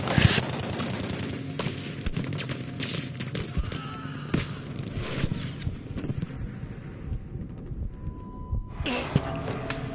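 A Bren light machine gun fires in Battlefield V, dense rapid gunfire and impacts filling the game mix, loud and close with continuous bursts and a few distant explosions.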